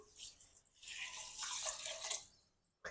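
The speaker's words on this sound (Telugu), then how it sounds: "ఈ వన్ ఇస్ట్ వన్ రేషియో వాటర్ కూడా పోసేస్తున్నాను" Water pours onto rice in an Instant Pot for chicken biryani, a short splashing gush that swells and fades over a few seconds, with no talking.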